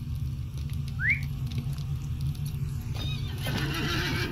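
A horse in the video game Lord of the Rings gives a brief, near whinny over a steady low hum, followed by a change in the background to a brighter, busier ambience.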